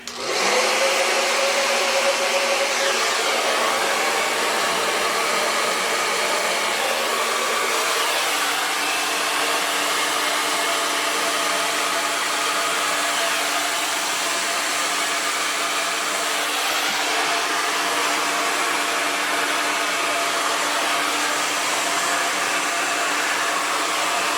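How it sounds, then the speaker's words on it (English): Hair dryer blowing steadily over a wet turquoise and black acrylic Dutch paint pour, a loud continuous whooshing roar that holds for the whole stretch without talk. "Let me get my trusty hair dryer."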